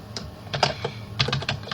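Quick bursts of keystrokes on a computer keyboard, clustered clicks and taps at close range with short pauses between, no voices.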